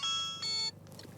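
A mobile phone rings inside a car in traffic, two bright electronic ring tones in quick succession that cut off abruptly and leave faint road noise behind.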